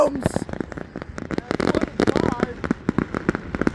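Fourth of July fireworks pop and crackle in rapid bursts, with a voice talking over the barrage.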